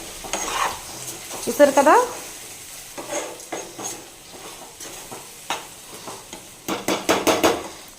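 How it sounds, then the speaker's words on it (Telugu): Chicken being stirred in a pan with cumin powder and masala spices, a scraping spoon working through it in uneven bursts with light sizzling beneath, brief speech near the start. "జీరా పౌడర్, అన్ని మసాలాలు యాడ్ చేసేసిన తర్వాత ఒకసారి మొత్తం కలిపేసుకుందాం"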